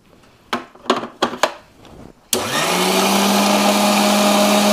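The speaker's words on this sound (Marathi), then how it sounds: "त्यामुळे परत एकदा आपण मिक्सर लावून घेऊया" Mixer grinder grinding neem leaves into a paste: a few short separate bursts, then the motor starts and runs steadily with a loud, constant whirring drone.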